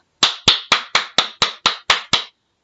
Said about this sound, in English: You can make a different rhythm by making it quicker